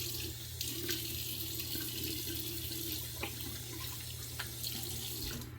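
Running tap water rinses a Holy Black SR71 slant safety razor at a sink, a steady hissing stream with a few brief clicks and splashes as the razor passes under it.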